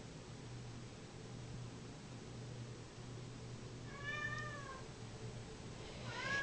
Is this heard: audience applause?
no